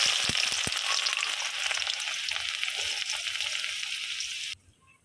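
Onion frying in hot oil for a potato curry makes a loud, continuous crackling sizzle with a few sharp pops at the start, then cuts off abruptly near the end.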